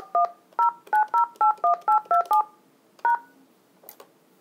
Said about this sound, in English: To conference two calls together, dial the first number you want to conference.